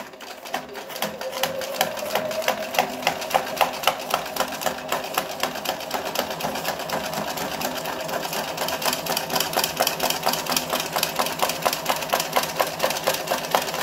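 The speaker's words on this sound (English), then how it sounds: "I'm just going to move the cardboard forwards and backwards whilst I'm doing the sewing." A sewing machine stitches through cardboard with a fast, steady mechanical rattle, each needle stroke ticking in even rhythm, close and continuous throughout without any voices.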